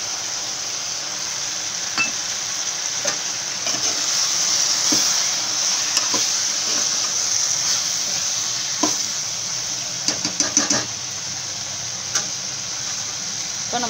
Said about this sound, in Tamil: கொஞ்சம் நல்லா வதங்கட்டும் வெண்டைக்காய்